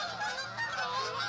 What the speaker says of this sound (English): These are Canadian geese.